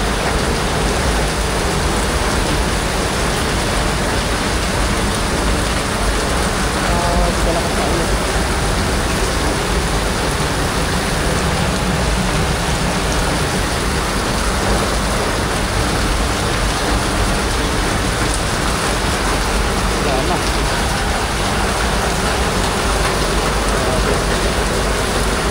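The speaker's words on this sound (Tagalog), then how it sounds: "Mga karudoy, grabe lang kalakas ng ulan." Heavy rain pours down without letup, a dense, loud hiss of drops hammering surfaces nearby for the whole stretch.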